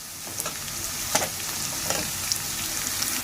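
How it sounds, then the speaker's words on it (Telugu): Onions frying in a pan give a steady bright sizzle, with a few louder crackles and stirring scrapes breaking through the hiss at close range. "ఆనియన్ ఇలా వేగినప్పుడు"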